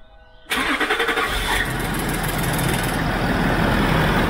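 A Land Rover Discovery 3 engine catches after a brief quiet moment, firing loudly with a few uneven pulses before settling into a steady, rumbling idle heard up close.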